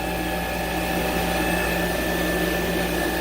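Spindle of a 2017 Mazak QTU350MY CNC lathe running at speed, a steady, even mechanical hum with a constant whine layered over it, close and unchanging, with no voices.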